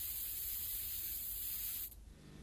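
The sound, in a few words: spray paint can spraying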